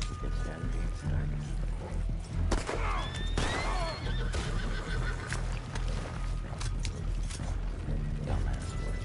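A horse neighs in the game Red Dead Online, a rising whinny near the middle standing out over steady mechanical clicking, gear-like ratcheting and low game ambience throughout.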